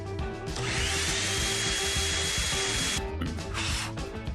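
A steady, loud whirring drone runs for about three seconds, cuts out sharply, then a noisier rushing burst follows over a busy musical background.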